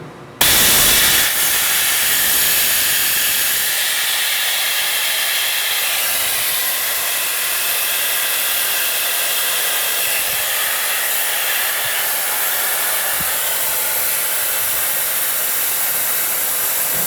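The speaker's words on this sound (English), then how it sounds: "We will shut off the valve here." Compressed air rushes in a loud, steady hiss that starts abruptly and holds with only slight easing, coming from an industrial air line at the shut-off valve of a 700-C machine being made safe for maintenance.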